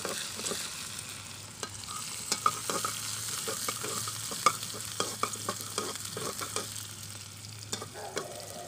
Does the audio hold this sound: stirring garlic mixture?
yes